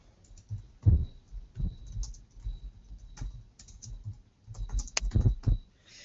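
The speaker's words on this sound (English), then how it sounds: "And I'm going to start typing." Keys are tapped on a computer keyboard in irregular bursts, soft clacks and thumps close by, with short pauses between runs of typing.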